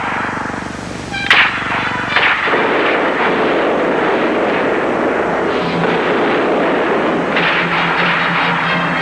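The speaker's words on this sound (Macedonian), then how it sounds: "Пак пука, бедо." Dense, sustained gunfire and distant heavy firing rumbling without pause, with a sharp loud crack near the start, in a depiction of the 1903 battle at Krusevo, Macedonia.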